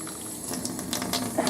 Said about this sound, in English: You can add another little bit of water to the bottom tray as well, just so that it's got some water to drink